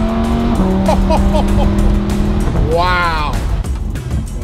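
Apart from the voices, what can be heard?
supercar driving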